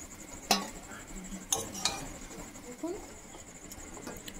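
Egg patty filling scraped and poured from a pan onto a metal plate, with a few sharp metallic clinks and taps of a spoon against the plate, followed by softer scraping, quiet and close.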